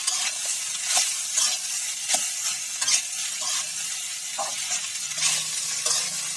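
Rice being stir-fried with turmeric in a pan, giving a soft sizzle broken by repeated scraping and clinking strokes of a spatula at an uneven pace, close by and with no voices.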